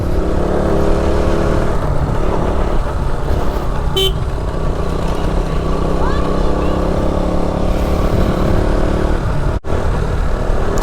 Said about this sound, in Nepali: My old version KTM Duke 200